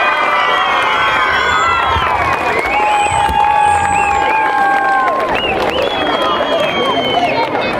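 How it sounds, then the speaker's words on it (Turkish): Crowd at a middle school's May 19 celebration: loud, continuous cheering and shouting from many children with whistles and excited voices layered over scattered clapping, filling the whole stretch. "Kocaman bir alkış!"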